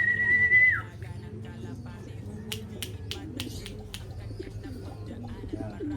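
A racing pigeon coos in low soft rolls after a brief whistle, with a string of sharp clicks or snaps in the middle and a person talking nearby.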